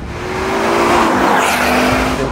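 A Ford Focus RS500 drives close by with a loud, steady engine roar and a hint of tire noise that holds for a couple of seconds, with no talking.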